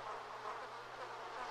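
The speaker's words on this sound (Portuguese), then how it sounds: "essa barulheira de mosca aqui tá atrapalhando" Flies buzz in the survival video game Miscreated, a steady, close, continuous insect drone that holds at an even level throughout with no pauses.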